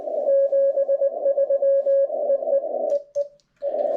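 Morse code CW tone from a POTA amateur radio station, a clear keyed sidetone beeping in rapid dots and dashes over faint radio hiss, with a short dropout near the end.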